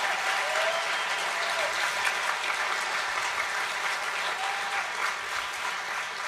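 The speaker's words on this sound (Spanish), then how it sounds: "Yo creo que se merece un mejor aplauso a nuestro Dios" Steady congregational applause during a church service, dense and even clapping from a full room that holds at a constant level, with a faint cheer or two.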